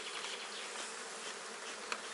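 Honey bees buzzing around an apiary hive while splits are made in bad weather: a continuous, dense hum of many bees, close and steady, with no voices.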